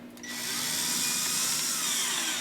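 Power driver sinking a number 10 screw into thin plywood, a steady high whine that ramps up quickly and runs continuously, close and fairly loud.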